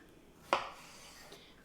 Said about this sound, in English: What I'm going to do is cut those in half as well.